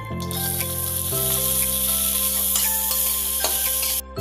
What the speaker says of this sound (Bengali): গাজরগুলো অল্প ভেজে নেব